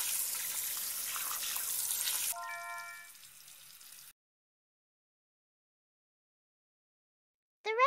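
Tap water runs with a steady hiss for about two seconds while vegetables are washed in a children's cooking video game. A few soft game tones follow, then silence.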